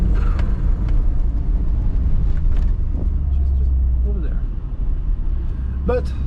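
A 1996 Suzuki Jimny on a test drive, its engine a steady low rumble beneath constant road and cabin noise, with a few faint clicks and a brief higher tone near the end.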